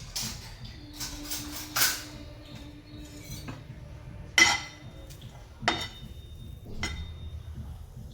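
Mild green chillies roasting in a pan for spinach thecha, heard as scattered metallic clinks and scrapes of a utensil against the pan over a low background, close with no talking.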